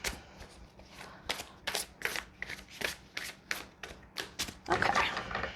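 Oracle cards being shuffled by hand make a rapid series of crisp riffling, slapping bursts in an uneven rhythm, close up and fairly loud, growing busier toward the end.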